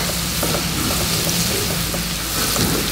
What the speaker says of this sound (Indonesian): Kita tumis sampai harum.